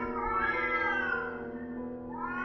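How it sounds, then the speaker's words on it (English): A cat screaming in a tabletop RPG scene: one long, loud, wavering yowl with rising and falling pitch, close and alone, continuing for about two seconds. "I stumble back, tripping over a cat that screams."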